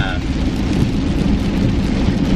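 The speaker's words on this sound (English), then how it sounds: "I can't believe it's raining so hard." Heavy rain pours down in a loud, dense, unbroken hiss and patter that fills the whole moment.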